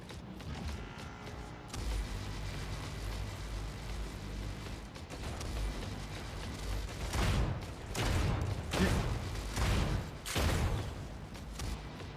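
Repeated mortar fire from a sentry unit in the mech combat video game Mech Arena, loud rumbling explosive bursts recurring in quick succession over a dense, continuous battle din, with no talking.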